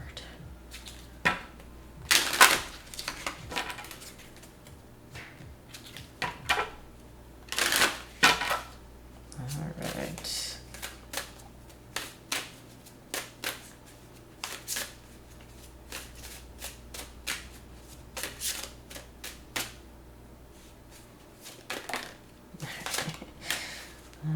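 Oracle cards being shuffled and drawn during a full moon reading, with repeated crisp riffling bursts and softer slides and taps spread across the span, close and fairly loud, with no talking.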